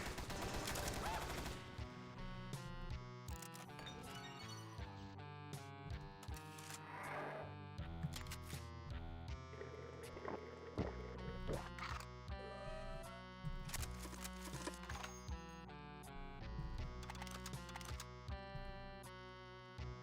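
Weapons in the Combined Arms mod for Doom 2 fire in rapid bursts, mixed with metallic clicks and clacks of reloading, set against layered game music.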